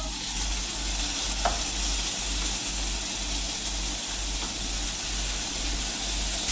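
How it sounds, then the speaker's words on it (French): Minced meat fries in a pan with a continuous close sizzle and hiss while a spoon breaks it apart, with a few soft scraping stirs. "J'ajoute la viande hachée. J'essaie de l'émietter avec la cuillère."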